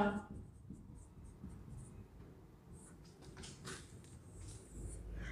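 Marker or chalk scratches across a board during an accounting lecture on an estimated cost sheet, with short strokes and taps recurring close by over a quiet room with low voice and handling noise.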